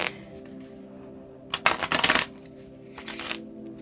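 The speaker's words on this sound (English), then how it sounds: "they shuffle it all the time" A deck of cards riffle-shuffled in a quick burst of crisp flutters, then a shorter, softer shuffle follows; no one speaks.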